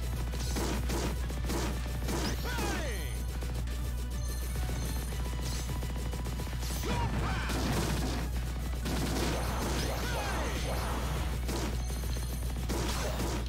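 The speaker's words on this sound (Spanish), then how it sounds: "Vean qué pinche grosería de, disparos estos cabrones" Dense, continuous arcade gunfire and explosions from the PSP shooter Neo Geo Heroes Ultimate Shooting, a steady barrage of shots and crashes layered over game music throughout.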